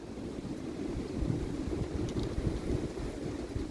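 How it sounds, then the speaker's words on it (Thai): Strong wind gusts outdoors beside a small backyard pool, a loud continuous low rushing roar buffeting close to the microphone, with no voices. "อู้ลมแรงจัง"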